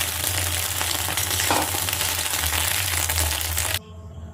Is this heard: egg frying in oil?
yes